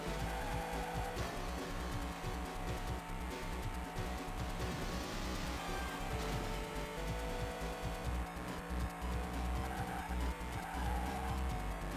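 A race car roars and skids with repeated tire squeals in the Game Boy Advance game Hot Wheels World Race, the engine droning continuously and loudly throughout.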